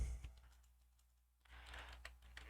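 Quiet keystrokes on a computer keyboard, faint and scattered, with a short pause before a looser burst of taps, over a low background hum.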